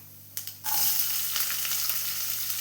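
Sliced onion drops into hot oil with urad dal and mustard seeds in a frying pan. A few light clatters come first, then a loud, steady sizzle that flares up and carries on alone.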